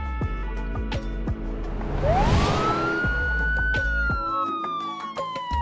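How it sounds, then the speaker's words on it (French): A police car siren rises in one loud wailing sweep, then holds and slowly falls, heard alone with faint clicking tones around it. "Une voiture de police."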